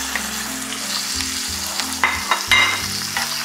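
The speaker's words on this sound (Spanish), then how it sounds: "Y ya los calamares se rehogan un par de minutos con la cebolla y con los ajos" Squid sautéing in a pan with onion and garlic, a steady close sizzle with stirring scrapes and a few sharper spatters near the end, no voices.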